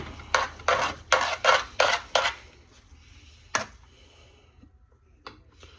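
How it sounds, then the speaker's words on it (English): Food stirred in a pot, six quick rhythmic metal scrapes and clanks of a utensil against the pot, close and fairly loud, followed by a couple of isolated knocks and then near quiet. "We're gonna stir that up."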